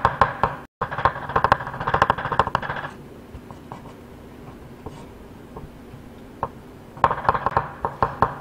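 A knife slices thin egg garnish (jidan) on a cutting board in quick, rapid taps, pausing for a few seconds of near quiet with scattered single knocks before the fast chopping resumes.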